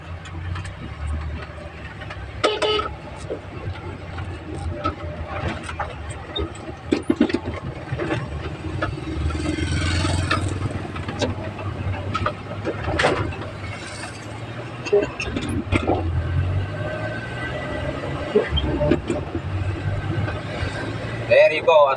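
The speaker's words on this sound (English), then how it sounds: "As you can see, I am shifting the last gear, fourth gear." A multicab running down a road, its mid-pitched engine droning steadily with rises and dips as the driver shifts up through the gears to fourth, with someone talking over the engine throughout.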